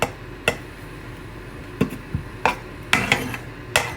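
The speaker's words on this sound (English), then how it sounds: "We gotta put it in our pot." Food dropped into a cooking pot while making pork tamales and red salsa, a series of sharp clattering knocks and taps of utensils against metal, irregularly spaced and close.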